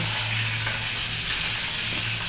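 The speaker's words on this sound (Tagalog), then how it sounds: "Nagprito na lang ako" Food frying in a pan, a dense, steady sizzle with crackling spatter that stays loud and close throughout, with no voices over it.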